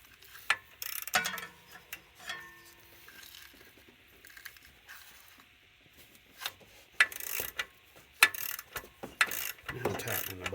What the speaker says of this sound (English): Now I'm tightening the bolt up. I'm running the bolt back in there.